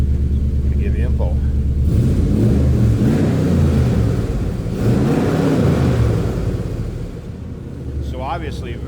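Throttle blips from a 5.7 liter Hemi V8 in a 1966 Dodge Coronet Deluxe sedan swell into a loud, close rising roar and then fall back to a rumbling idle, with someone speaking briefly before and after the revs.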